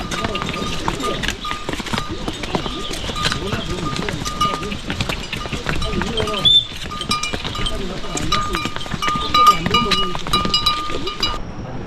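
A herd of donkeys comes down a trekking trail on the Annapurna Base Camp route in Nepal, their bells jingling and hooves clopping close by while people talk over them.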